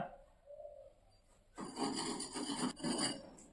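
A surface is scraped and rubbed by hand to whiten and clean it in a room being readied for painting. A faint bird call comes first, then loud, close rasping strokes in a quick uneven rhythm for the last two seconds.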